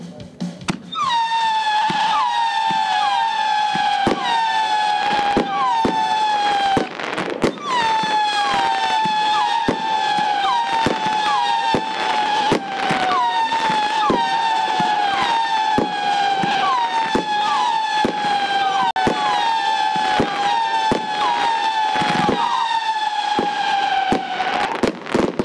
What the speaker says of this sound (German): Liesel Whistle, eine ganz besondere Five-Batterie, Kaliber 25 mm